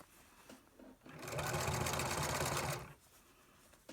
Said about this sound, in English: I'm going to open up the pocket and keep stitching and go into the next side of the pocket